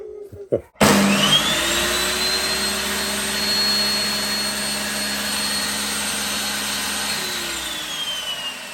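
An Einhell TC-TS 2025/2 eco table saw motor starts up abruptly and roars steadily at full speed, a whining hum over broadband noise, then starts to wind down near the end.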